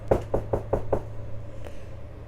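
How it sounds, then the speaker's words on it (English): Five quick, evenly spaced knocks strike a castle door up close, followed by a brief pause and one fainter tap, with a low hum underneath. "So he goes up to the castle door and he knocks."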